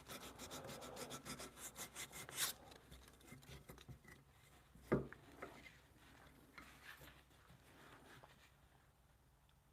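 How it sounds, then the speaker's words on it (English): Hand sanding of wood in a home workshop, heard as quick rhythmic scratchy strokes that fade after a few seconds, followed by a sharp knock and a few quieter rubs, all faint and close, with no talking. "the reason I'm sanding is so that the glue is porous"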